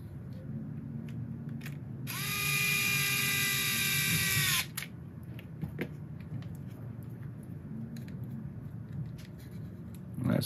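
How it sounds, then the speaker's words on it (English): Small electric power driver running bolts back into an RC truck transmission case: one steady whirring run of about two and a half seconds, close and clear, with quiet handling taps before and after. "And we'll put a couple bolts back in."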